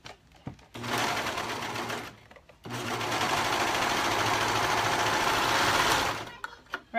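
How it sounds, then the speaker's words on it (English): A serger sewing machine stitching swim knit fabric runs in two steady, close whirring bursts separated by a short pause, with quiet handling clicks before and after. "I do find it easier to use a serger when working with swim knits"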